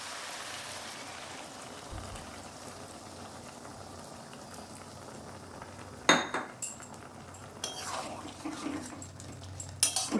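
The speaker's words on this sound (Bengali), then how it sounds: "দু মিনিট পর মোচা চিংড়িটা নেড়ে দিলাম।" A banana flower and prawn curry sizzles in a pan while a utensil stirs it, a hiss underneath followed by a run of metallic scrapes and clinks near the end.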